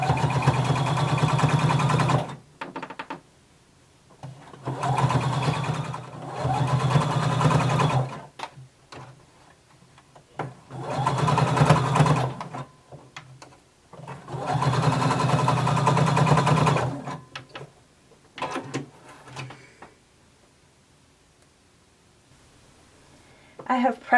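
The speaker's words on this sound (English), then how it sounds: "we're going to stitch all the way down" A sewing machine runs down a collar seam in four long bursts separated by short pauses, steady and close, with a few soft handling noises between runs.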